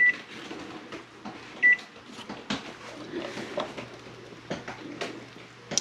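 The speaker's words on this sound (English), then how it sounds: "I'm going to set our timer to 13 minutes." A kitchen timer is set with a few short electronic beeps beside a pot of backyard chicken eggs about to boil, close and brief amid soft kitchen handling noise.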